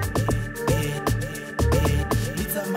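A straight, evenly spaced amapiano snare pattern programmed in FL Studio, hitting in a tight loop alongside punchy low drums and tonal elements, loud and upfront with no voices.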